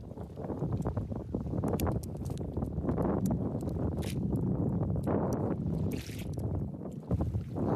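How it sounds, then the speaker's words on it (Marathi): Strong wind buffets a fishing boat at sea as a loud, constant roar across the microphone, with wave slaps and knocks of the hull scattered through it and no voices. "पण वारा पण जाम झालाय"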